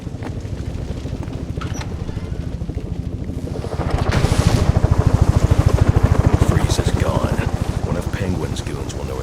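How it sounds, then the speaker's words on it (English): Helicopter from Batman: Arkham Origins lifting off, a loud rhythmic rotor chop that swells and thickens partway through, with a voice speaking over it. "Chopper's going."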